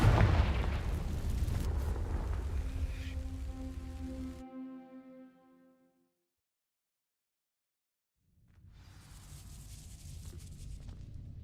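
A Confringo fire spell blast in the video game Hogwarts Legacy, set against dry vines: a loud rushing burst that rings out with a fading tonal tail, then near silence before a softer rumble returns.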